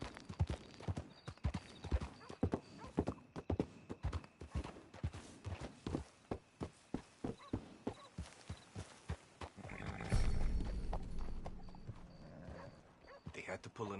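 Horse hooves clip-clop at a steady walking rhythm in the Red Dead Redemption 2 video game, close and clear, with a louder rustling burst partway through and people talking at times.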